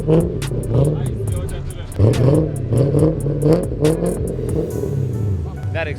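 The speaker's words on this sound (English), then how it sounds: "That exhaust shaking a little bit." A car's engine revving loudly at a car show, with repeated close throttle bursts and a rumbling exhaust, while voices of the crowd carry underneath.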